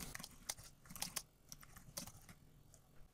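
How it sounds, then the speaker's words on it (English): Computer keyboard being typed on while writing a comment in a formula editor, a quiet irregular patter of soft key clicks with brief pauses between bursts and nobody speaking. "and then I'm going to type my comment."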